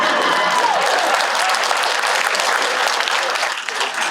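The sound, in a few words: audience applause at an awards ceremony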